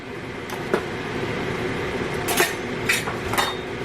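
A metal spoon scrapes the bottom of a pot of simmering vegan pot roast with wine, liquid and bits of onion, giving a few distinct scrapes and clinks over a steady low bubbling.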